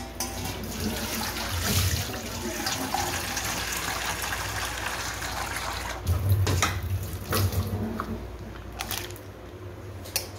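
Dishes being washed under a running tap, with a steady rush of water, occasional splashes and soft clatters of utensils, fairly close and constant throughout; no speech.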